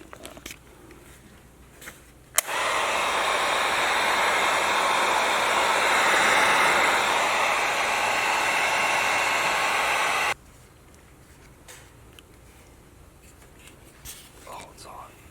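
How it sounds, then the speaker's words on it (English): A heat gun blows hot air onto heat shrink during work on a 1979 Jeep Cherokee Chief, a steady loud rushing hiss that switches on with a click and runs for about eight seconds before cutting off, with quiet talk around it. "Now we'll take the heat gun to it."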